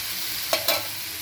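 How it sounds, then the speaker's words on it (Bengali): Potatoes and spice paste fry in a pan for a cauliflower curry, a dense steady sizzle close by, with two quick scraping stirs partway through. "আলু মশলাটা ভাজা হয়ে একদম টেনে যাচ্ছে"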